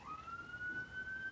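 A siren wails outside, one faint, slowly rising tone heard from a distance over a soft background rumble for a brief moment.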